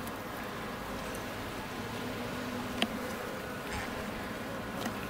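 Honey bees buzz steadily at an open hive during a new queen introduction, a faint, dense, continuous hum with a few brief closer passes.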